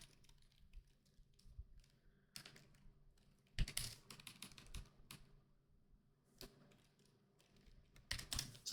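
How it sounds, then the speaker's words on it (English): Fingers tapping on a computer keyboard in quiet bursts, with sporadic clusters of close, crisp keystrokes separated by pauses and a faint background hum. "So I just typed there"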